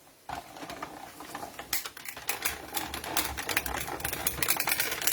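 A die-cutting machine runs card stock through its rollers, producing a continuous close mechanical clatter of rapid ticking and grinding that begins abruptly after a brief quiet moment.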